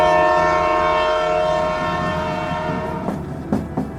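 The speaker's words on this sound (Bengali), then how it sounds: "আবার যখন খুঁজে পেলেন, ট্রেন তখন চলতে আরম্ভ করেছে" A crowded local train begins to pull away, a steady horn-like tone and low rumble holding throughout, with a few sharp metallic clanks near the end.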